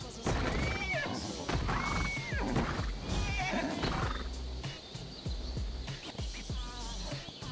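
A horse in ARK Survival Evolved whinnies loudly several times, with hoof clip-clops and thumping game sounds around it and no talk over the calls.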